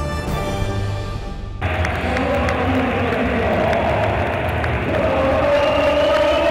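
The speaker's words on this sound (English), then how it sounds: "A fantastic crowd here in Gijón this evening to witness the coronation of the 2014 IFSC World Champions." A large crowd roars at the 2014 IFSC Climbing World Championships lead final in Gijón in the evening. Brief tonal sounds come first, then a loud, steady wall of cheering takes over and swells slightly toward the end.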